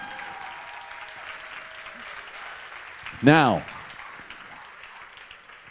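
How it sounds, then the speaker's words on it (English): Audience applause thanking the volunteers at an IRONMAN 70.3 Greece race briefing, a steady wash of clapping that runs throughout, with a single voice cutting in briefly near the middle. "Can we please give our volunteers a big round of applause and say thank you?"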